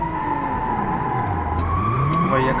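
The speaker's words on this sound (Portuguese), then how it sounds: "Nosso motor aqui não tá aguentando muita pressão, não." Simulated Honda Civic fitted with a V6 engine, driven in BeamNG.Drive: a steady, continuous engine drone with a pitch that dips and rises again, loud and unbroken for the whole stretch, with no talk over it.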